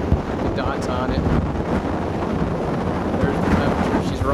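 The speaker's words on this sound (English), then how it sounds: "These gusts we're getting right now, we've been getting for a while." Strong gusting wind of around 30 mph buffets the microphone outdoors, a constant loud roar with rough low rumbling throughout.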